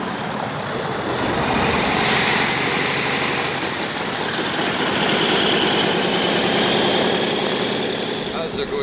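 A propeller airplane engine idles at a Pacific island airfield, giving a steady, loud, close rumbling drone with a broad hiss that runs unbroken through the whole stretch.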